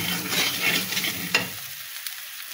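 Vegetables stirred with tempered spices in a hot pan give a loud, close sizzle with scraping strokes that dies down to a quieter simmer about halfway through.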